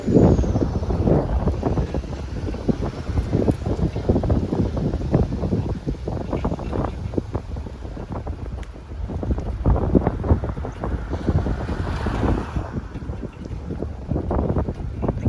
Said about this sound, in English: Got a bit of a headwind here, so this might not be the swiftest ride in the world.